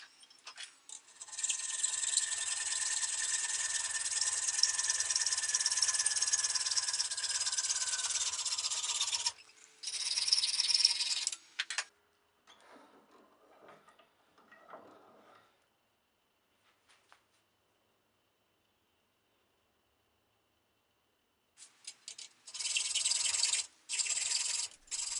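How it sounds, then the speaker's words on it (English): A slightly blunt hacksaw cutting through round deer antler, steady rasping strokes in a long sustained run, then a pause with faint scrapes and handling, before the sawing resumes loudly and close. "I'm using a hacksaw to cut the antler."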